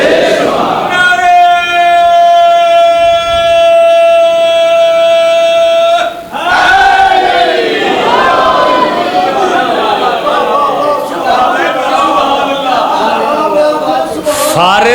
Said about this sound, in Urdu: نعرے